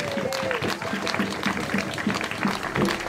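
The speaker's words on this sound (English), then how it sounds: "A round of applause for that, please." Steady applause from a crowd, dense and sustained, with voices talking over it.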